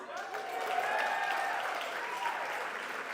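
An audience at a benefit gala bursts into applause that swells, holds steady and slowly fades, a dense even clapping with no voices standing out.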